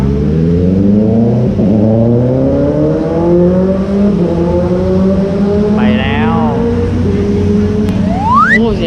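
A Honda CB650F motorcycle fitted with an RKH quickshifter revs hard and close. The loud engine tone climbs repeatedly through gears with brief cuts at each shift, and a final sharp rise comes at the end.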